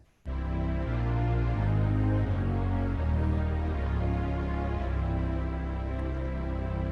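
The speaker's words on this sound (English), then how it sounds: "If I go and I hit every black note until I go down till I find C again" Piano notes step downward over the black keys one after another in a steady descent to C, ringing together with sustain, loud and close with no talking.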